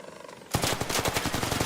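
Rapid automatic gunfire in the Counter-Strike video game, a dense rattling burst that starts abruptly after a quiet lead-in and stays loud and continuous to the end.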